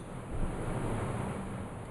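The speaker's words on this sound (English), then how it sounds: "we're going to pour some wine back and forth, just for a minute here" Wine poured back and forth for about a minute, giving a steady, continuous liquid rush and splash that stays fairly even throughout, with no one talking.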